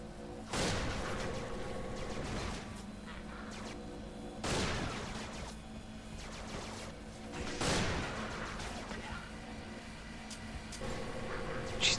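Gunfire rings out in the Resistance: Retribution video game, with several sharp bursts and booms spaced a few seconds apart over a steady background rumble of game ambience.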